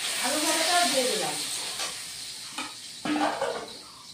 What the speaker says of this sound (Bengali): এবার আলু ভাজাটা দিয়ে দিব।